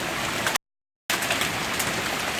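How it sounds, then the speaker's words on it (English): Pea-sized hail during a storm pelts surfaces as a constant dense patter, broken by a brief silent gap midway, with no talk. "It's hailing, guys."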